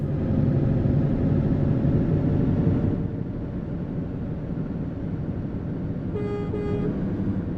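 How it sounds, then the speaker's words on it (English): A truck horn honks in a truck simulator game played on a Moza sim wheel, giving two short toots near the end over a steady engine and road drone. "you pull the wiper stalk towards me and it honks"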